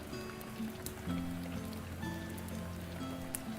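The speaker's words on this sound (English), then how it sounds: "I'm actually listening to rain sounds right now while I'm replying to you." Recorded rain sounds play continuously, a dense steady patter of drops on a surface with soft sustained tones humming underneath, even and unbroken throughout.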